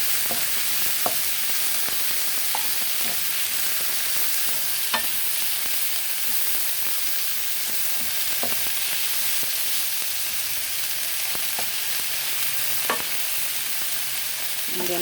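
Steak and plenty of onions sauté in a pan with a continuous close sizzle, broken by scattered clicks and scrapes of stirring, with no talking.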